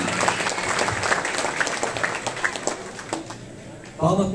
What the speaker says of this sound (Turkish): Alkışlarla gelin hanıma teşekkür ediyoruz.